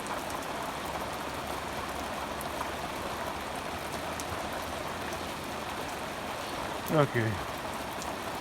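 Steady morning rain falls on a small pasture, an even wash of hiss and patter throughout, with a brief spoken word near the end.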